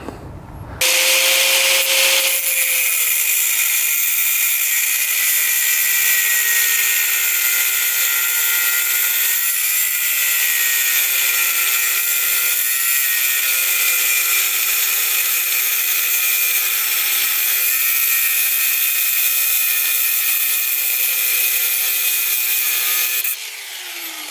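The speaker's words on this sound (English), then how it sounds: "So we're gonna cut the bolt right there and then we can get that out." A power tool grinds steadily through a metal bolt on an old fishing boat, a loud, sustained high-pitched whine with slight pitch wavers lasting over twenty seconds before cutting off.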